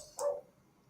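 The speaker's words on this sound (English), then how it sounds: "the neighbours' dogs are barking now" A neighbour's dog gives a single short bark, moderately loud and slightly distant, followed by quiet room tone.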